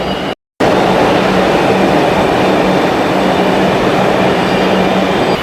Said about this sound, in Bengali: আর এই হচ্ছে আমাদের ট্রেন এটা এখন চলে যাবে কবি সুভাষের দিকে